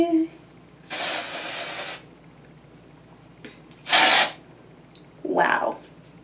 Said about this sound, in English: I just want to like spray it everywhere.